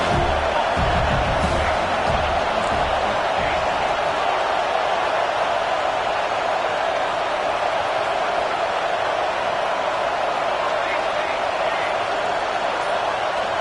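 A loud stadium crowd at a college football game between USC and Notre Dame, a steady dense roar of many voices that fills the whole stretch without pause.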